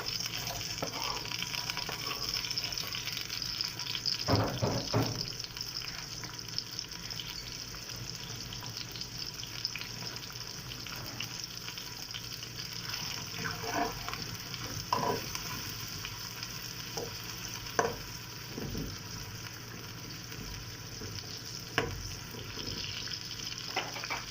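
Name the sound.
chopped onion frying in oil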